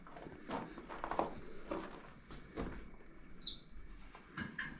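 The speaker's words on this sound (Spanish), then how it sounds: "Ahí está el pajarito que nos anda." A small bird chirps in short, faint calls among the adobe ruins of an old hacienda, with brief higher whistles set against quiet outdoor ambience and soft scattered rustling.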